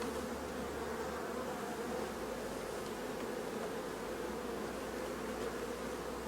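Honeybees buzzing at an open beehive during an inspection, a dense, steady drone of many bees close by, continuous and even throughout with no voices.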